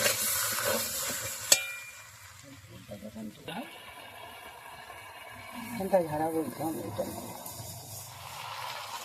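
Boiled meat added to a fried spice paste in a pan and stirred, with moderate sizzling and scraping strokes heard close up, mixed with intermittent talking.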